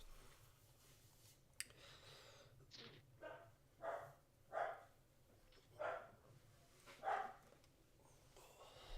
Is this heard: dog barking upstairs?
yes